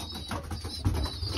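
Young racing pigeons in a breeding loft, a close, soft throaty cooing that swells and rolls continuously over about a second and a half, with no talk.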